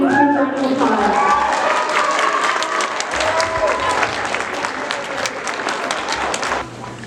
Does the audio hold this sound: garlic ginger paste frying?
no